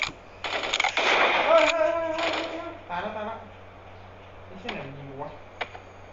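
Rapid machine-gun bursts ring out in a Sausage Man battle royale match, loud and dense at first, then thinning into scattered shots, with voices talking over them.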